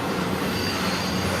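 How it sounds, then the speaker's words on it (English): Trains running side by side on parallel tracks, a continuous loud rolling rumble of railcars with steady wheel noise and a faint high squeal, close and unbroken throughout. "There's another train racing beside this guy."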